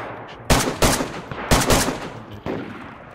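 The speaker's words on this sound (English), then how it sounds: "You're getting shot at?" Gunshots in DayZ, several loud, close reports in quick pairs and singles, each with a short echoing tail, spaced irregularly over a quiet background.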